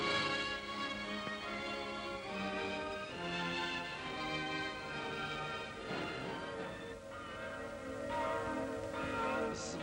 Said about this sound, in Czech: Zvony připomínají světu narození Páně.